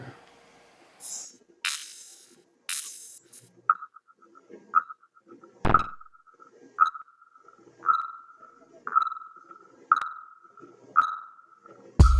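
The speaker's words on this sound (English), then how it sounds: "I'm gonna put like filter freak on it" A drum loop run through the Filter Freak filter plugin gives a steady series of resonant, pinging hits about once a second, each ringing briefly, with a few sharp transients around them.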